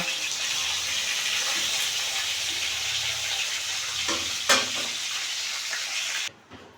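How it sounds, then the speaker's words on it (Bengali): Large bata fish fry in oil, giving a constant crackling sizzle close up with occasional sharper spits and utensil knocks, until the sound cuts off abruptly near the end. "মাছ ভাজা হয়ে গেছে"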